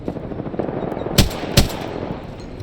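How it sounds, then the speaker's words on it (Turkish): Gunfire in the battle royale game Apex Legends, two sharp, loud shots about half a second apart over steady low game ambience. "Kime sıkıyorlar acaba?"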